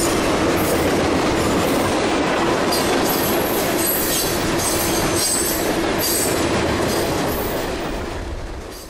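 Freight train Q441 rolls past on the S-Line near Rerdell crossover, a loud continuous roar of wheels and railcars with rhythmic clatter and some squeal, slowly fading toward the end.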